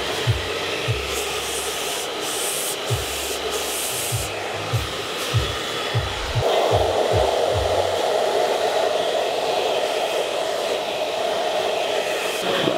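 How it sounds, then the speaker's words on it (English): A hair dryer blows steadily on a man's short fine hair while it is rolled around a brush, a continuous close airy roar, with the tone shifting partway through and light brushing thumps underneath. "I'm drying this in. Now as you get to the fringe, separate this and just roll it around the brush."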